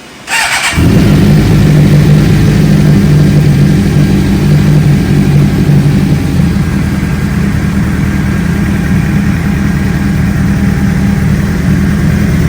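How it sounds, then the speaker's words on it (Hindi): A Suzuki GSX-R600 sport motorcycle engine cranks and fires up cold without throttle, then settles into a loud, rumbling idle that stays steady and close for the rest of the clip. "बाइक स्टार्ट करके आपको इसका साउंड सुनाते हैं"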